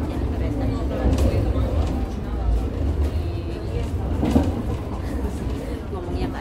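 Inside a crowded moving train, a steady low rumble of the carriage fills the space, with soft clatter and murmuring passenger voices underneath.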